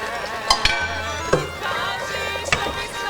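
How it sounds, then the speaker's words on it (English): Thick traditional Macedonian flour soup (kasha) stirred in a pot with broth, a spoon scraping and knocking against the sides in several loud strokes over a low continuous bubbling hum. "Give it a stir."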